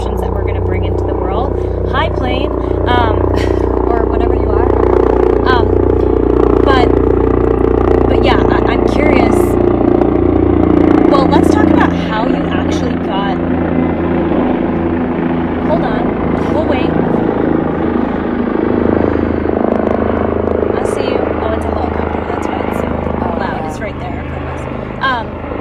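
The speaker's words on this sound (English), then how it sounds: "we will let the helicopter pass" A helicopter passes overhead outdoors, its loud continuous rotor and engine rumble filling the scene steadily and easing slightly toward the end, while people talk throughout.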